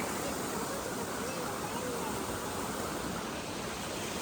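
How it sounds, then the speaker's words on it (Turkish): A waterfall at the Kırka Dam pond in Afyonkarahisar gives a steady, dense roar of falling water, constant and enveloping throughout. "Şelale sesi harika."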